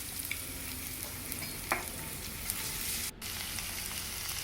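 Sliced onions and curry leaves sauté in ghee in a kadai for prawn ghee roast, making a quiet, even frying hiss with a couple of faint clicks of a utensil.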